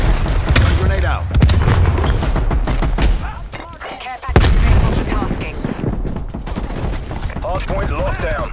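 Gunfire and explosions from a Black Ops Cold War hardpoint match, including a Semtex grenade blast: rapid bursts of shots and sharp booms, loud and close, with a brief lull before a heavy blast and faint voices mixed in.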